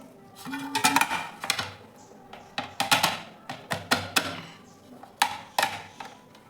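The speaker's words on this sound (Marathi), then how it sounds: "आता आपल्याला एका प्लेटमध्ये काढून घ्यायचं आहे" A rice dish made from ration rice is moved onto a plate, with a utensil scraping and clinking against the pot and plate in a string of sharp, uneven knocks.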